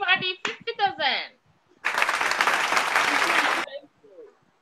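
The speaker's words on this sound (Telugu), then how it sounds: "మనం క్లాప్స్ ఇచ్చేద్దామా" Someone speaks briefly to a children's club gathering, then a burst of steady group clapping from the children fills about two seconds before fading, with a few faint words after.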